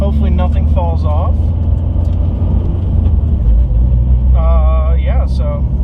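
A Scion FR-S on air suspension rolls around a residential neighborhood on R888 tires, with a steady low road rumble and engine drone throughout and people talking over it.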